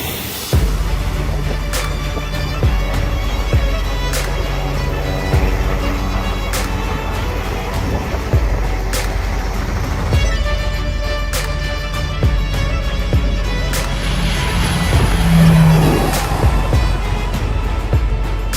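The Akıncı B combat drone, with twin 750-horsepower engines, taxis toward the runway for its first flight. A loud, steady engine drone with a tonal hum fills the whole stretch, with no one talking.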